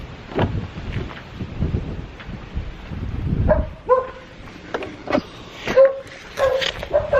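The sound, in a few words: dogs barking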